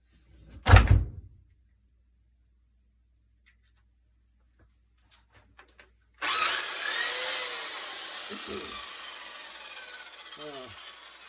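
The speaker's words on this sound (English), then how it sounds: "It's good to have a high-speed drill for this." A sharp knock sounds early, then after a quiet stretch a high-speed power drill starts up and runs with a steady high whir that slowly eases off, used for polishing pool table rails.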